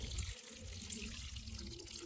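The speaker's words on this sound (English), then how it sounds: "I like to water it down first, just so it can settle" Water pouring onto potting soil in a garden pot, a soft continuous splashing and trickling stream, faint and steady with no voices.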